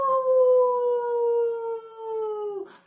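Voices imitating a wolf howl in one long, steady, gently falling sustained note, loud and close, ending with a brief breathy noise.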